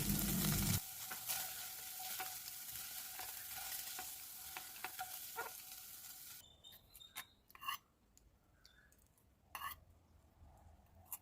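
Paneer cubes fry in hot oil while being stirred, a dense sizzle with scraping for about six seconds, then the frying fades to quiet with scattered clinks of utensils.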